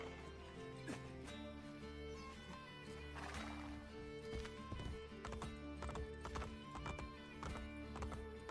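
Horse hooves clip-clop steadily at a quick pace, with a whinny breaking through, all over a busy soundtrack of music and ambience from Assassin's Creed Brotherhood.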